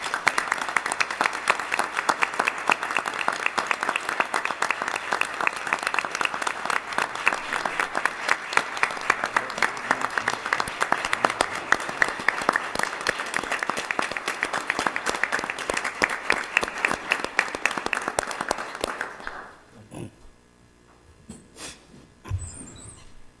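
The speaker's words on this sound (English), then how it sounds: "let's give these individuals a hand of applause" A board of education meeting audience applauds recognized students, many hands clapping in a steady dense patter for about nineteen seconds before fading out into quiet room noise and a few stray sounds.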